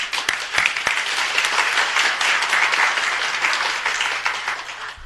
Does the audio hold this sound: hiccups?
no